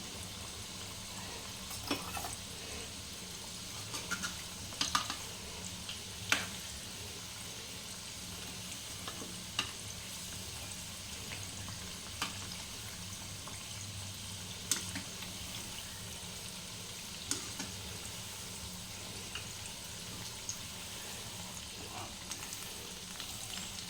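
Spinach pakoras frying in oil in a small kadai over medium heat, a steady close crackling sizzle with occasional sharp pops and clinks throughout, no talk.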